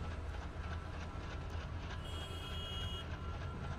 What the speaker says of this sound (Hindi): this is our beautiful locomotive